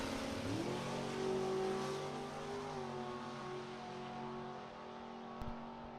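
A Super Pro drag racing car at full throttle down the strip, giving a loud, steady engine roar that swells in pitch at the launch and then holds, with a brief sharp crack near the end.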